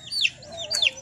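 A broody hen gives two short clucking calls close by, with quiet background noise between them.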